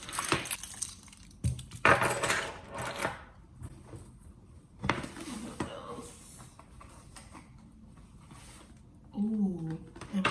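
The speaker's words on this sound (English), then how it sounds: "my car keys." Car keys jangle and clink as they are pulled from a Coach carryall handbag, several bright metallic bursts close up amid rustling, with a voice talking briefly near the end.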